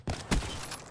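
Gunfire in the video game Black Ops 3 multiplayer on PS4 cracks out in a couple of sharp, loud shots followed by a sustained noisy rumble.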